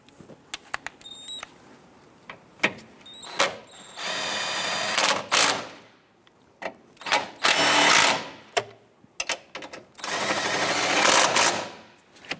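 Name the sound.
power tool tightening bolts on a Nissan Rogue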